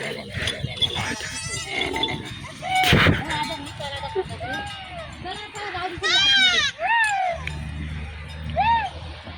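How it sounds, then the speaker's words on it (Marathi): Goats and sheep bleat in a village yard, several wavering cries rising one after another close by, mixed with loud rustling and thumping and a burst of noise near the start. "हा बकरा आहे."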